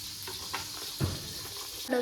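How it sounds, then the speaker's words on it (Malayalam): Coconut oil crackles faintly in a heated pan during mango pickle preparation, a soft sizzle with a few light knocks and scrapes, quiet and brief. "ഇനി ആവശ്യത്തിന് വെളിച്ചെണ്ണ ഒഴിക്കാം."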